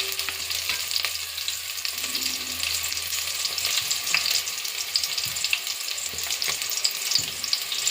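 Garlic fries in a pan for Telangana bagara rice, a continuous crackling sizzle with occasional stirring scrapes, close and steady with no talk.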